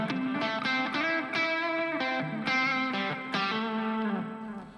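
Electric guitar played through a Kemper amp profile of a Super Reverb with Sparkle Drive, ringing out mildly overdriven chords and sustained notes in a steady, loud phrase with no talking.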